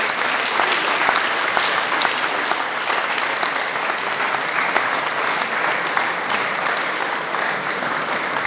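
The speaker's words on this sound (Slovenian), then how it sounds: "Še en aplavz, prosim" Sustained applause from a concert audience at a traditional summer choir concert by a men's choir with guest singers, a dense steady patter of many hands clapping together for the full length at an even, fairly loud level.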